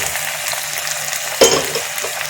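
Fried potato and papaya pieces are tipped into a pressure cooker of mutton curry, landing with one sharp clattering splash over a constant hiss of frying.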